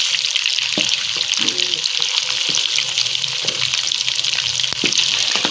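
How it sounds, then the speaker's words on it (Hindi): Mutton browning in a pot, a dense, steady sizzle and hiss with scattered crackles and stirring scrapes, close and continuous. "ये देखिए, ये हमारा गोश्त जो है वो ब्राउन होना शुरू हो गया है।"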